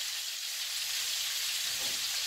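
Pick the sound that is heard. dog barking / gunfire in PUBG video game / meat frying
meat frying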